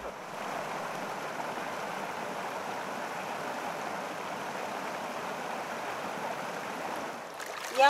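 Broadband rushing of river water flows steadily and evenly at close range with no voices, swelling briefly near the end.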